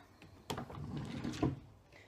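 A drawer slides open or shut in a home, a muffled rumbling scrape with a soft knock near the start and a louder bump near the end, close and moderately loud.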